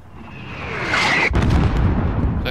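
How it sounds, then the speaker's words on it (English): A mortar shell explodes in Call of Duty Modern Warfare, first a rising whistle, then one loud, close, low boom that rumbles on with crackling debris. "There's still a mortar out there."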